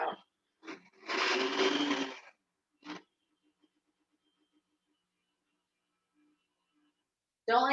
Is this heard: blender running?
yes